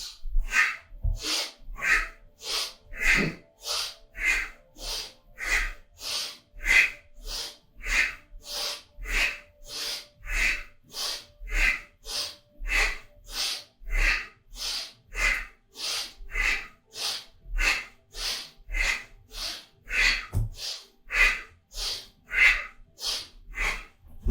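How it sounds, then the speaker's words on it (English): Steady, rapid breathing during a tai chi circulation exercise, about twenty close, even in-and-out cycles repeating without pause, with no talking. "So breathe in."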